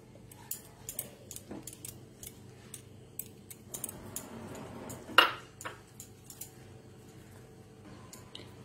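Powdered milk stirred slowly into milk in a pan over a low flame makes faint, sparse ticks and soft scraping, with a short burst of stirring and one sharper clink partway through.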